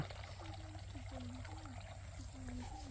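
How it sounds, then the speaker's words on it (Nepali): Water trickles and drips at a temple in a steady, faint stream, with low, bubbling tones over a quiet outdoor background hum. "अनि यता चाहिँ पानी चुइरहेको छ, देख्न सक्नुहुन्छ"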